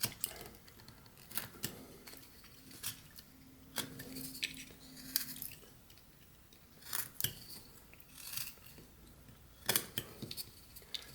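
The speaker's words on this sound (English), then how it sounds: "we'll put a stop cut in here, kind of cut up to that" A whittling knife makes a stop cut in a carved wooden head, producing irregular crisp clicks and short scraping snaps spaced across a quiet background, close and fairly faint.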